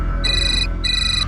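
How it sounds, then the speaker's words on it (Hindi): A phone ringtone for an incoming call plays loud and alone as two repeated electronic tone bursts, each about half a second long, with a short gap between them over a steady low background hum. "यार सेम नंबर से फोन आ रहा है।"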